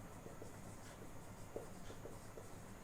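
Handwriting with a pen on paper in a book: faint, close scratching strokes that come in short irregular bursts over a low, steady room hum, with no voices.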